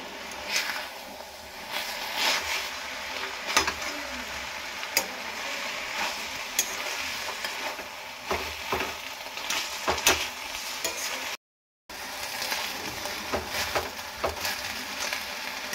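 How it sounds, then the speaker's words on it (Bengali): Drumstick leaves are stirred in a dry wok: continuous rustling and scraping with frequent small clicks of the spatula, steady and moderately faint, briefly cutting out near the end. "শাকটা দেওয়ার পরে"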